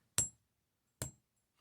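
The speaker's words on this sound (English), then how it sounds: "take your bench block, take a nylon jaw hammer or nylon thingy hammer" Two sharp, isolated taps of a nylon jaw hammer striking memory wire on a metal bench block, close and clean with near-silence around them and a tiny tick at the end.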